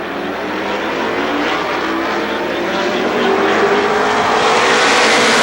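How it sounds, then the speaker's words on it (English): A loud, dense roar of a pack of race cars accelerating together at the green flag at Winchester Speedway, the engine noise swelling steadily and filling the whole span. "Green flag flies, and we are racing."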